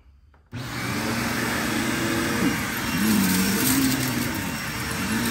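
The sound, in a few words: Bissell Power Trak 6592 vacuum cleaner running on carpet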